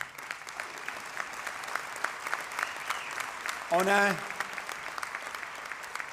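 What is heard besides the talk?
audience applause for union members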